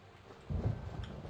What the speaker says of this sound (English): Raining at night.